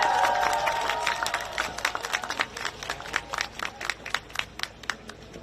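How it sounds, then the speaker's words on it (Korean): A crowd at an outdoor political campaign rally near Godeok Station in Gangdong, Seoul, claps and cheers loudly, a dense roar of applause with sharp individual claps and shouts building steadily throughout. "큰 박수와 함성을 부탁드립니다."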